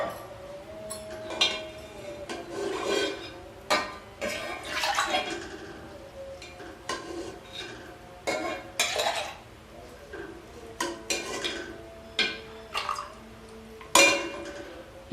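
Mutton stock being ladled out of a pan into a glass: irregular clinks and knocks of metal against cookware with splashes of liquid, close and moderately loud, in uneven bursts.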